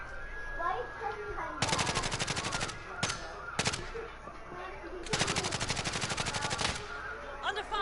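Automatic machine-gun fire in a video game crackles in several sharp bursts, a long volley, a brief one, another long volley and a short final burst, with a voice talking underneath.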